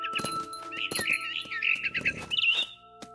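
A mama bird chirps in the video game What Remains of Edith Finch, with rapid high twittering calls over a short stretch, close and clear alongside soft rustling and light tapping, no talk.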